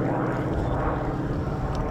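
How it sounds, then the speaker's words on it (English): A Goodyear-built FG-1D Corsair, a World War II warplane, flies past at an air show, its propeller engine producing a steady, loud broadband drone that holds evenly throughout with no talk over it. "Lou's airplane is an FG-1D built by Goodyear."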